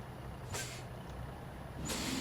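Truck in the SnowRunner video game: a low steady engine rumble with two sharp hissing bursts of air brake release, about a second apart.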